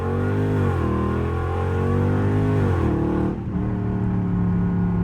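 A Dodge Scat Pack revs hard through a loud first-gear pull, its rising engine harmonics sweeping upward twice before a brief shift dip, then settling into a steady, close, heavy drone.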